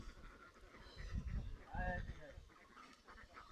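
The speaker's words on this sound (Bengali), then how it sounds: "আমাদের হাঁসের ফার্মে তিন হাজার হাঁস আছে" Ducks quacking on a large duck farm holding around three thousand birds, a cluster of nasal calls rising in the middle, mixed with background voices and farmyard noise.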